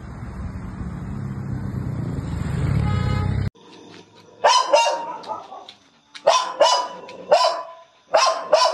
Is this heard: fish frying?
no